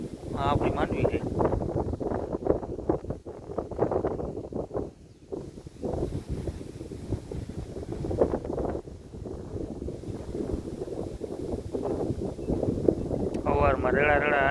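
Wind gusts blowing outdoors near a pond by a crop field, buffeting and rushing against the microphone steadily throughout, with someone talking over it.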